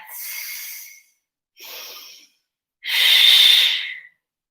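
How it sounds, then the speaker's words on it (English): Slow, deep breathing during a gentle stretching exercise, three close, loud breaths with short pauses between them, the last one longest, no talk. "Nice deep breath."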